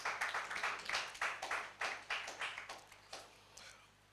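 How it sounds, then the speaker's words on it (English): Faint, sparse clapping from a small audience at a training program kick-off ceremony, a dozen or so separate bursts fading out after a few seconds, heard alone and at a distance. "I thought I would get a clap for that for the board."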